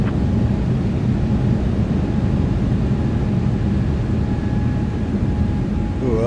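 Wind and engine roar from a Lufthansa A320neo airliner taking off in the X-Plane 12 flight simulator, a steady, dense broadband rush running loud and unbroken throughout, with a faint tonal whine above it.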